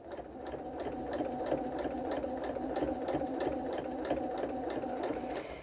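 A sewing machine stitches through a cathedral window pillow, running at a steady, close, continuous hum with a fast regular needle rhythm for several seconds, with no talking.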